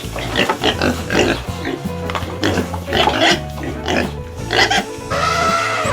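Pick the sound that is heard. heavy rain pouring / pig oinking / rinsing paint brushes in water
pig oinking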